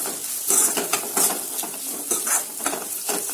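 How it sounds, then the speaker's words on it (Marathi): Turmeric frying with cooked ingredients in a pan for poha, a steady sizzle with repeated scraping stir strokes and occasional utensil clinks, close and fairly loud, no speech. "हळद चांगली परतून घ्यायची."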